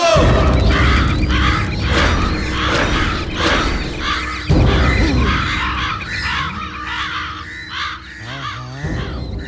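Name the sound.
crow cawing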